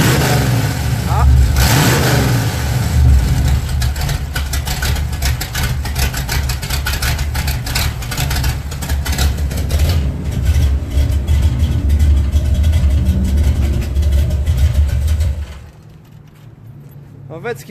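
Car engine with the exhaust cut-outs open, revving loud and close with a rough, sustained roar for about fifteen seconds before dropping to quiet. People talk over the engine.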